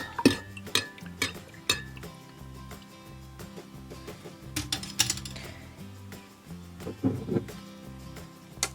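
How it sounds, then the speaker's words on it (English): A tablespoon stirs creamer into a coffee cup, giving a run of light metallic clinks and scrapes against the cup in an irregular rhythm, close by and fairly quiet. "Dump that in there, stir it up."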